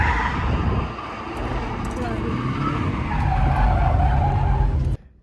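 A car drifts with a sustained, loud tire skid and engine roar, the screech rising and falling continuously before cutting off abruptly.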